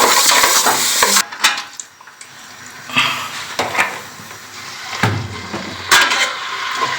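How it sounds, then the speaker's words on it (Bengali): Mung dal being dry-fried and stirred in a pan, loud close scraping and clattering strokes of a spoon against the pan in uneven bursts over a light sizzle. "এই মুগ ডালটা ভেজে দিচ্ছি"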